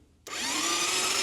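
A Yamaha XT 500 motorcycle with a retrofitted electric starter kit cranks after a short pause, a steady whirring drone that starts abruptly and continues loud and close without firing, no voices over it.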